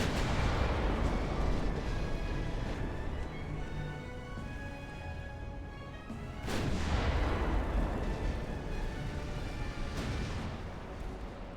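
Warship guns fire heavy salvos in Ultimate Admiral: Dreadnoughts, deep rumbling booms that roll on continuously, with a fresh blast near the middle and a lighter one later.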